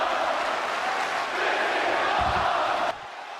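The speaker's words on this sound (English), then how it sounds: "The crowd loves this match." A crowd at a wrestling match roars and cheers loudly and continuously, a dense wash of voices that swells briefly before cutting off abruptly near the end.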